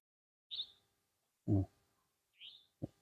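A bird calls at night in a forest while flying past, with two short rising chirps a couple of seconds apart, clear against near silence, with a few low thuds in between.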